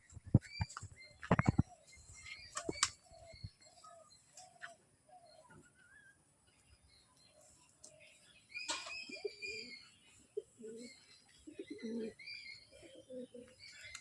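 Pigeons coo softly nearby in short repeated calls as they are taken from their loft. A few sharp knocks and rustles come at the start, then quieter cooing continues.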